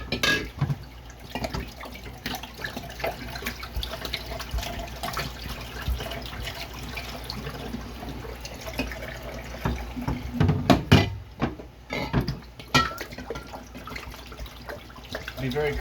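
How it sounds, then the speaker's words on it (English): Bleach water drains and is rinsed out of phytoplankton culture equipment, running and splashing in an uneven stream with irregular gurgles and drips, moderately close. "we want to make sure we drain all the bleach water out and rinse it really well"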